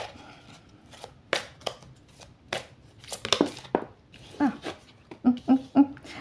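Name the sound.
shuffling a deck of cards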